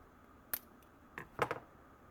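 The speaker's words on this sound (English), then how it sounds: "Cut the edges." Scissors trim the edges of a handmade vintage-style candlestick holder craft piece, giving a few sharp, separate snips spread over about two seconds against a quiet room.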